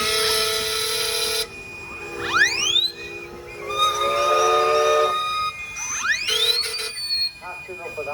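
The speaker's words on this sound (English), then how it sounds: "So we can have a big loud hooter whistle now." Steam traction engine hooter whistles at a steam rally arena, with a long loud steady blast followed by several rising, swooping whistles from other engines joining in, layered and overlapping over crowd ambience.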